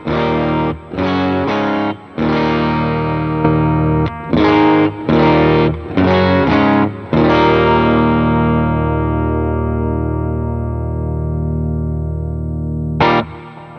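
Electric guitar played through an AC30 amp patch on an HX Stomp pedalboard with no compressor, loud and distorted, with chord strums cut into short choppy bursts, then a long chord left to ring and fade before a final brief stab.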